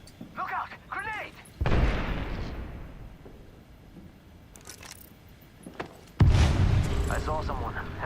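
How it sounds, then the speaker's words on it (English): A grenade blast in a military shooter game lands as a loud low boom that rolls on for a couple of seconds, with a second heavy explosion near the end, while a voice shouts in between. "Look out! Grenade!"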